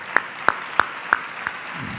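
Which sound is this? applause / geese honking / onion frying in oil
applause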